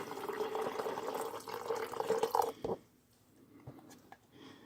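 Pre-measured water is poured into a vessel for fermented soup, a close steady trickle that stops abruptly partway through, leaving faint kitchen clatter and small knocks.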